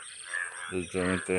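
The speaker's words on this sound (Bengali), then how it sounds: "পুরো ব্যাঙ ডাকছে" Frogs croaking in a flooded, waterlogged field, rapid throaty pulsing calls coming in three close bursts over steady insect-like background hiss, with a brief spoken word near the start.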